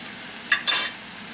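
Swiss chard cooks in a pan as excess water boils off, giving two short bursts of hissing sizzle and stirring over a quiet background, close by, with no talk.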